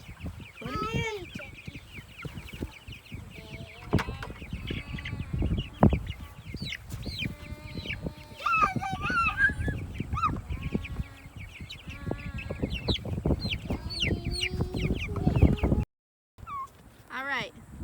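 Chickens cluck, squawk and call in busy overlapping bursts as 150 birds are moved by bucket into two chicken tractors, with people talking nearby and a brief dropout near the end.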